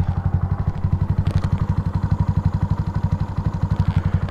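Close, loud Honda Pop motorcycle, bored to 170cc, chugging in a fast, even rhythmic pulse, steady throughout as the bike runs along, with a brief clatter early on.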